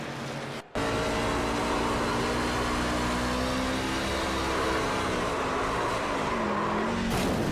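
A race car engine drones steadily on an oval at Michigan International Speedway in a racing sim, its pitch rising and dipping slightly as the driver feathers the throttle through the turns, loud and continuous after a brief cut near the start.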